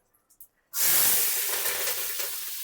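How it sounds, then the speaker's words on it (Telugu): Onions hit hot oil in a large kadai for chicken fry, bursting into a loud, steady sizzle after a few faint clicks, the crackling hiss sustained close by without talk. "ఉల్లిపాయలు అయితే వేసాను అనమాట వేగుతున్నాయి"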